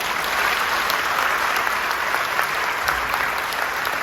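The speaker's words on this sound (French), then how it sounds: "Quelques applaudissements." A conference audience at a special nursing event in Seville applauds, dense sustained clapping from many hands filling the room evenly for several seconds, loud and close with no voices.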